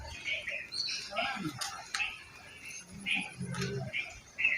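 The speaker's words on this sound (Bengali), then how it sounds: "এগুলোকে সাধারণত বক পাখি বলা হয়" Faint egret calls and chirps sound from a distance at a zoo in Srimangal, mixed with soft voices talking in the background.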